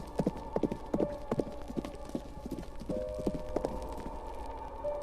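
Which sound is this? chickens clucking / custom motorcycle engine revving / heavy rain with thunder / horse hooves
horse hooves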